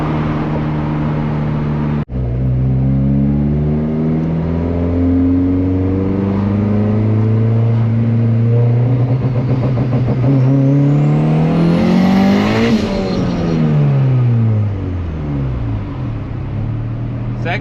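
A $500 turbocharged Honda Civic with anti-lag revs hard and close, its loud rasping engine note climbing steadily in pitch then dropping back, after a brief cut near the start.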